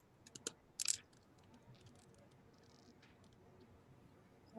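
Sparse, quiet keyboard clicks tap in small bursts, with a louder cluster early on and scattered keystrokes after in a hushed room.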